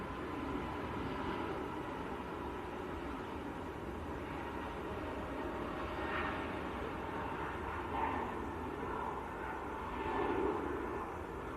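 A Jet2 airliner bound for Bodrum roars down the runway on its takeoff roll at Manchester Airport, heard as a steady, broad, fairly distant engine rumble that swells slightly toward the end.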